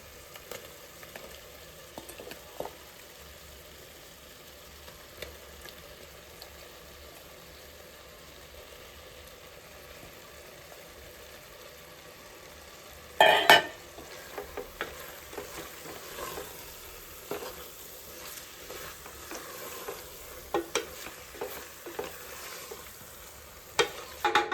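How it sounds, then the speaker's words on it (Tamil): Prawns frying in cooked masala for prawn biryani, stirred now and then in the pan, with a steady low sizzle and sharper clattering stirs toward the end. "இப்போ ப்ரான் போடலாம்."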